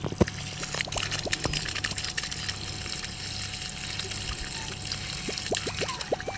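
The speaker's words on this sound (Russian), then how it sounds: "Вот такая вот вода сейчас из скважины течет." Well water from a newly drilled borehole gushes and splashes steadily from a hose for several seconds, with scattered small clicks and drips over a continuous rushing flow.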